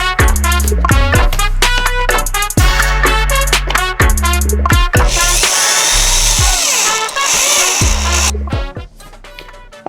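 A power drill drives screws into a wall to mount a cheap hangboard, whirring loudly in repeated short bursts with brief pauses between them and a longer grinding run near the middle.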